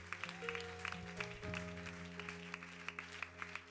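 A church congregation claps along in a steady, rhythmic beat, fairly quiet and distant, over sustained organ or keyboard chords.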